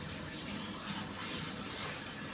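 A tap pours a steady, full stream of water during a hair rinse at a shampoo basin, an even close gush with no talking.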